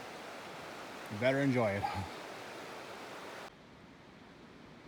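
A steady broadband rush of a waterfall along Snake Indian River, heard from a distance on a trail, under a brief spoken phrase, then dropping abruptly to a quieter hiss near the end.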